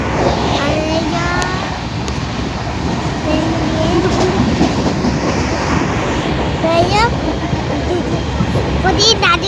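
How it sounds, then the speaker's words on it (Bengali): A train rolls along the rails with a loud, steady rumble and rattling wheel noise close by from inside, while people talk over it. "আমি ট্রেনে উঠেছি"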